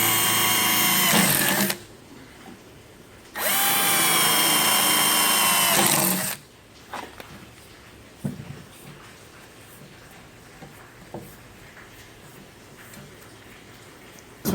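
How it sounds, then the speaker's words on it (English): A small drill bit boring weep holes low in a SOLADECK roof box, two loud close whining bursts of a few seconds each, followed by faint clicks and handling taps. "In order to put a weep hole in, you'll grab a small drill bit."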